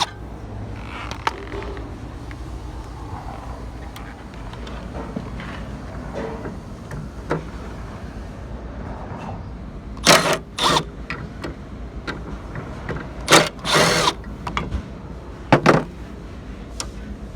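Tools working on a freezer being taken apart for a compressor change, giving scattered clanks and a few sharp, loud metallic bangs and rattles in the second half over a low background hum, with no talk.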